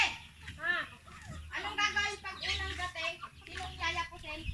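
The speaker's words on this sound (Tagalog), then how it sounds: "Ayan, ang daming manok dito." Several chickens cluck and murmur nearby in a rural Philippine village in an irregular, overlapping chatter, fairly soft but continuous throughout.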